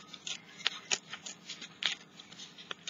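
Yellow, gold-toned paper being ripped by hand into long strips, a run of short, crisp tearing bursts up close with brief pauses between them, no talking.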